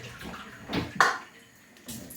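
Rice being washed in water, with a few short splashing swishes and sloshes close by, separated by brief quiet gaps.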